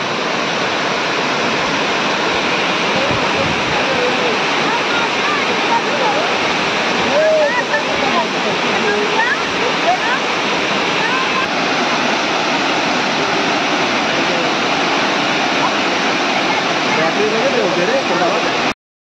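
Kondi waterfall in September roars steadily and loudly from close by as a dense, continuous rush of falling water, with faint voices mixed into the torrent.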